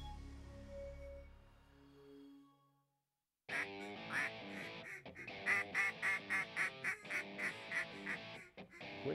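Ducks at a beaver dam break into loud, rapid, repeated quacking that fills the second half, following a quieter stretch of low hum and a brief silence.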